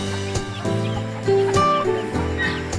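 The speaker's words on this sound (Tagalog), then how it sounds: "Ayan guys, mga maliliit na manok." Small chickens cluck and peep in quick, overlapping bursts, close by, with a steady low hum underneath.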